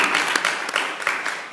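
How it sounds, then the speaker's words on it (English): A church congregation claps hands together in a dense, continuous round of applause during a worship service, many overlapping claps at steady volume. "give God a hand clap"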